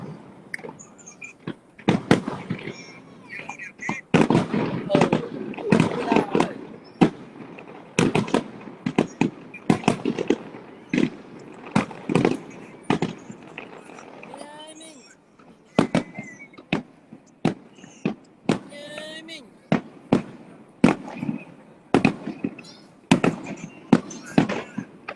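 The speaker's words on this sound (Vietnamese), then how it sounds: "Giờ chỉ cho mình xem pháo hoa thôi" Fireworks burst in a long irregular barrage of sharp cracks and booms, some in rapid clusters, with people talking and exclaiming nearby throughout.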